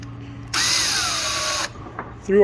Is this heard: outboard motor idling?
no